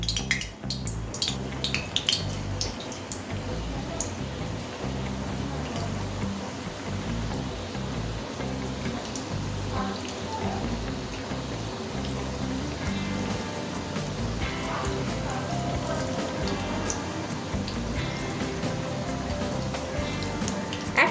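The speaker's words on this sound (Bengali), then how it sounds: "ছোট ছোট আকার নিয়ে দিয়ে দিচ্ছি তেলের মধ্যে।" Small balls of chicken pakora batter being deep fried in hot oil, a continuous crackling sizzle like rain with occasional clinks of a utensil against the pan.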